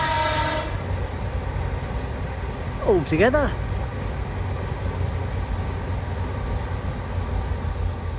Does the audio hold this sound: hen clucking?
no